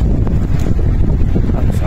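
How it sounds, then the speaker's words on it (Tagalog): Strong wind buffeting the microphone, a constant loud rumbling roar throughout. "Lakas ang hangin, oh."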